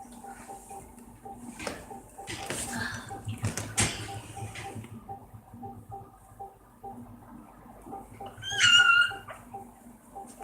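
Five-day-old American bully puppies whimper and yip softly in bursts, close to the microphone, with rustling and a louder squeal near the end.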